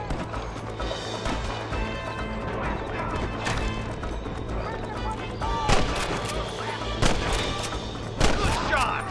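Gunshots in Red Dead Redemption, several sharp reports spaced a second or two apart over galloping hooves and game ambience, with voices talking.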